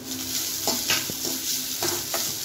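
Grated coconut is sautéed in ghee in a kadai for ghee payasam: a soft, close sizzle broken by a few distinct scraping stir strokes of a spatula against the pan, with no voices.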